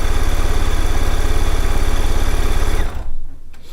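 A sewing machine run by foot control hums and chatters rapidly and loudly up close, a steady fast mechanical rhythm that stops abruptly near the end, leaving only faint clicks.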